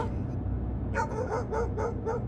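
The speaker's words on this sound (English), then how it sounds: "a huge dog rushed out, barking furiously" A huge dog barks furiously in a rapid burst of about six sharp barks, fairly close, over a steady low background rumble, with no one speaking.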